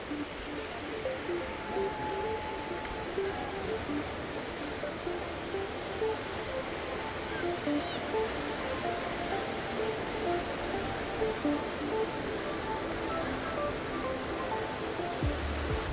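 Waves break steadily on a sandy beach in Malta, making a continuous, even wash of surf with no voices.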